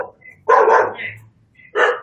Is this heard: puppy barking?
yes